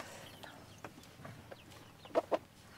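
Chickens at a mountain home, a few soft scattered clucks at moderate distance, ending with two louder close clucks near the end, with light background noise and no talk.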